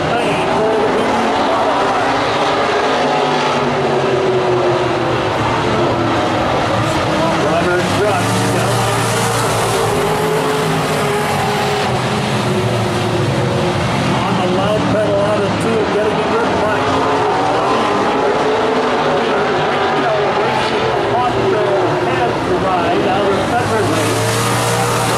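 Vintage modified race cars thunder around South Sound Speedway in a 25-lap event, engines roaring continuously and loudly with a dense, steady wash of noise, while a voice speaks over the racing.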